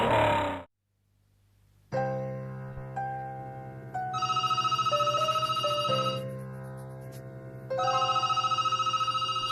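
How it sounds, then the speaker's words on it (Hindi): A telephone ringtone repeatedly sounds in an office setting in a Haryanvi film, a loud electronic melodic ring that plays in several bursts after a short pause, with no talking over it. "दूसरा फोन भी एक का घंटे में 2-2 बेर बजे"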